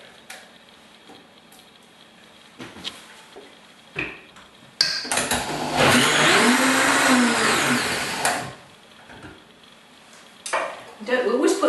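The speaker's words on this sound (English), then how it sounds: "you don't want to thrash them to death in a very powerful blender" A powerful blender whirs loudly for about three and a half seconds, blending a green protein breakfast with indoor greens and baby sunflower greens, framed by kitchen clatter and a voice speaking before and after.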